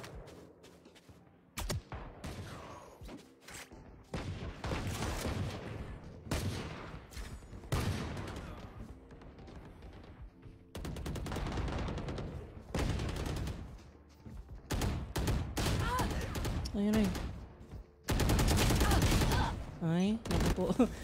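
Video game gunfire while strafing: repeated bursts of rapid shots in irregular clusters with short pauses, loud and close, over a steady background and occasional faint talk.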